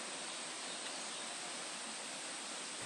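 A big surge of floodwater pours below a creek that was accidentally dammed, a steady, dense roar with no pauses and no voices.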